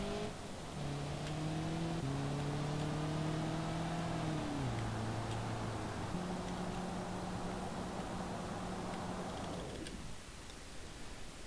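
In-game engine of a 1.8 litre Hirochi Sunburst car in BeamNG.drive, accelerating through gear changes with rising and dropping pitch, steady and loud, then cut off near the end.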